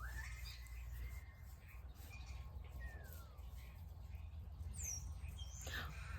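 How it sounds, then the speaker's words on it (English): Birds chirping outdoors on a fine day, scattered faint calls and tweets over a low steady background rumble, distant and sparse. "Lots of birds."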